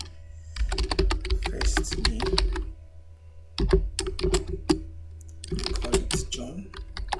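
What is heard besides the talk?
typing on a computer keyboard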